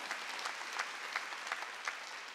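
A church congregation applauds during a Wednesday worship service, a thin, fairly distant patter of clapping with soft louder bursts spaced about every third of a second.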